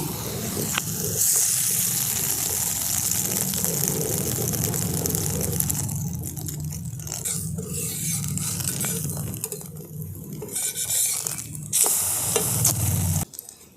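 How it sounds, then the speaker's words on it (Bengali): Egg-dipped paratha frying on a hot tawa, a steady loud sizzle that thins and crackles midway, then swells again near the end, with faint scraping. "ডুবিয়ে নিয়ে আমি এই তাওয়ার মধ্যে এটাকে দিয়ে দিচ্ছি।"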